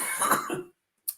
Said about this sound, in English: As I literally coughed my guts up.